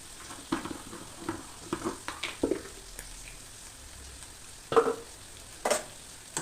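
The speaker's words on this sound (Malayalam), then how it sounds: "എണ്ണയൊക്കെ തിളച്ച് നല്ല തിളച്ച് വരുന്നുണ്ട്. നമ്മൾക്ക് കടുക് കൊടുക്കുകയാണ്." Mustard seeds and curry leaves frying in bubbling hot oil, with scattered crackles and pops and a few sharper sputters, close and fairly quiet with no talk.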